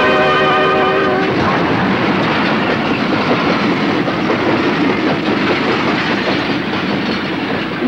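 A railway carriage rolling along the rails, loud and close: a brief horn blast at the start gives way to a steady rushing rumble with rhythmic clatter throughout.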